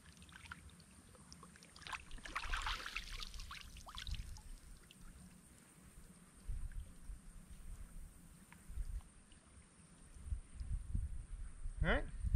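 A cleaned rabbit is washed in creek water, giving soft, intermittent splashing and trickling close by against a quiet outdoor background, with faint brief speech.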